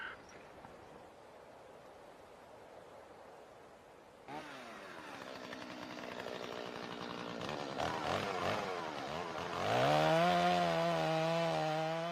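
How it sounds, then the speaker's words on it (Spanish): Chainsaws cut wood in a snowy forest: after a few seconds of quiet, a buzzing engine starts and grows louder, its pitch rising and falling as it revs, until a strong, steady whine fills the last seconds. "El sonido de las motosierras nos devuelve al presente."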